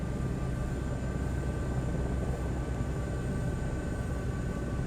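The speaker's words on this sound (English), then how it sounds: "It sounds like it's powering down to me." Aircraft engine powering down in Microsoft Flight Simulator 2024: a steady, moderately loud engine drone with faint whining tones holds evenly throughout, with no voices.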